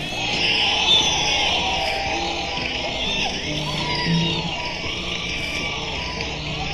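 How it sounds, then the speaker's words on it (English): Rowdy crowd at a 1970 acoustic concert, yelling and screaming in a continuous loud roar of overlapping voices, with shrill cries rising above the din. "How do you expect us to play music when you're screaming?"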